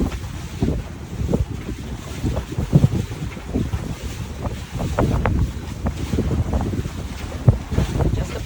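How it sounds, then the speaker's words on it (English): Wind buffets a sailboat on the open ocean, a loud, gusty rumble of wind against the microphone with waves sloshing beneath, rising and falling in irregular bursts throughout. "The wind in the sails."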